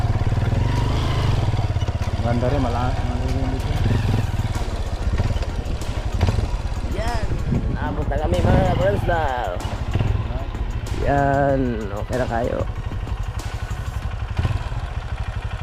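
Motorcycle engines idle and rumble with a steady low drone throughout, with occasional clatter, while people talk over it.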